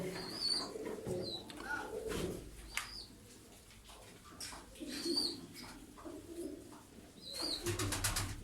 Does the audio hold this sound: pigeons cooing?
yes